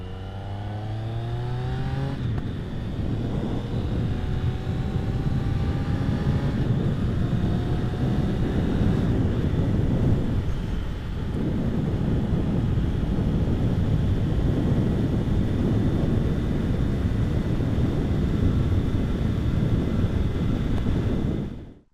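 A Triumph Speed Triple motorcycle accelerates through rising engine notes and gear changes, then cruises at about 70 mph. The steady engine drone is mixed with heavy wind rush throughout.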